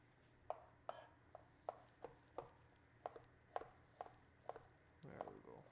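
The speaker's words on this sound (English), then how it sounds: "dice this onion" A knife dices an onion on a cutting board, about a dozen crisp, close chops in an uneven rhythm that ends with a short scraping sweep, with no talking.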